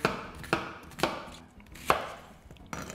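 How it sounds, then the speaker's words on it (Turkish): A knife chops an onion and garlic into big pieces on a cutting board, giving about five sharp, close knocks spaced unevenly with quiet gaps between them. "Büyük büyük doğrayın."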